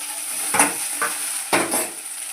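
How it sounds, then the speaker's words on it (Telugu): Green chillies hit hot oil in a pan, giving a steady bright sizzle with a couple of sharper bursts as they are added and stirred. "కొంచెం ఆయిల్ వేసి పచ్చిమిరపకాయలు వేయాలి."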